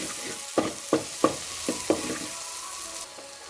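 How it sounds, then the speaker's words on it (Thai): Pounded garlic and pepper stir-frying in hot oil, a steady sizzle punctuated by five crisp scraping strokes of the spatula roughly every third of a second, close by, fading quieter near the end. "เครื่องที่เขาตำไว้เนาะกระเทียมพริกไทยอย่างนี้นะเจ้าตำไว้แล้วก็ใส่ลงไปคั่วเลย"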